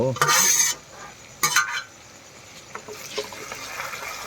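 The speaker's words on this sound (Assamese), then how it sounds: "এতিয়া পুৰা ভাজি আছোঁ মাংসটো।" Meat frying in hot oil with tomatoes for a gravy, with loud scraping stirs at the start and again briefly, then a softer steady sizzle settling underneath.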